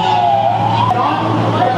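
A municipal fire engine's siren wails loudly and close during a building fire drill, a steady rising and falling tone over engine rumble.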